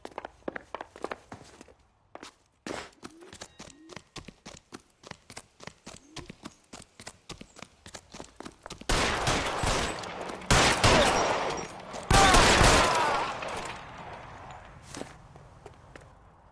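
Gunfire in the video game L.A. Noire: a run of crisp, evenly spaced footsteps gives way to loud, rapid volleys of shots in several bursts.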